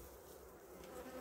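Black honey bees buzzing around a hive whose colony has been reinforced and is somewhat agitated, a steady close hum of many insects, faint and continuous.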